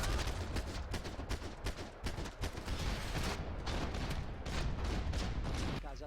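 Dense, continuous gunfire from the video game Max Payne 3, rapid shots layered into a loud, sustained barrage with no pauses.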